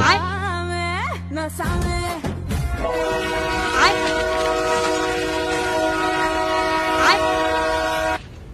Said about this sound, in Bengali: কিন্তু তখনই শোনা গেল ট্রেনের সিটির শব্দ